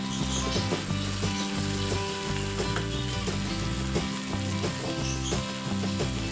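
Chili spice paste with petai beans fries steadily in hot oil for a balado dish, with continuous close sizzling and repeated scraping clinks of a spatula stirring through the pan.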